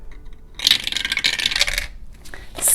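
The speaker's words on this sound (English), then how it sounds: "So I'm going to roll a dice" A six-sided die rolls and clatters across a hard surface for about a second, leaving a rattling, tumbling scrape, then a fainter rattle follows. The sound is close and fairly loud, with no talking.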